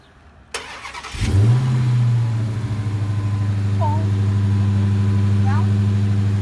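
A 2021 Dodge Charger Red Eye fires up with a sharp crank and loud bark, then settles into a deep, steady rumbling idle close by, with people talking faintly over it.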